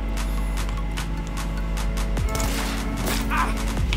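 Gunfire in a PC shooter game, a few sharp shots cracking over a steady droning game soundtrack and ambient noise, with sweeping tonal effects between them.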